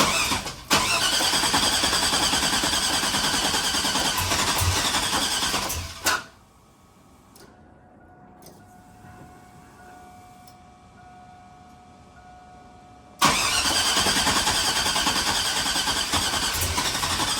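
A GMC Sierra engine cranks and fires after a cam swap. It runs loud and rough for about six seconds, cuts out into a quiet stretch of faint ticking and hum, then roars back to life and keeps running with no talking.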